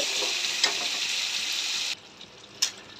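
Fish head fries in oil for a lentil dish, giving a bright, even sizzle that suddenly thins to a quieter crackle partway through, with one brief louder spatter near the end.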